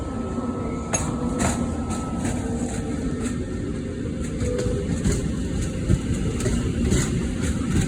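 Steady rumbling of a passenger train idling or rolling slowly at Birmingham New Street station, with metallic clinks and knocks over a continuous low mechanical hum.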